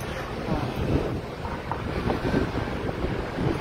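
Steady wind buffets the microphone in a dense, rumbling roar, continuous and fairly loud, with a faint wash like water or surf beneath.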